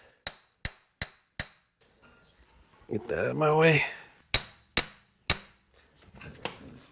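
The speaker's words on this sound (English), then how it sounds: "I'm going to take my hammer and just knock on the front just a little until it bottoms out" Sharp metallic hammer taps on a CV axle being installed in a 2002-2006 Honda CR-V strike in quick series of four, then a voice speaks briefly, followed by three more taps and a few lighter knocks.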